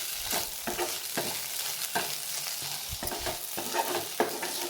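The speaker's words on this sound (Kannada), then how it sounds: "ಬೆಂಡೆಕಾಯಿ ನೋಡಿ, ಇಷ್ಟು ಎಣ್ಣೆ ಹಾಕ್ಬಿಟ್ಟು ಹುರ್ಕೊಂಡ್ರೆ ಸ್ವಲ್ಪನೂ ಅಂಟು ಥರ ಬರಲ್ಲ" Okra frying and being stirred in oil in a home kitchen pan, a steady hiss of sizzling broken by repeated scraping stir strokes roughly every half second, close and fairly loud with no voices.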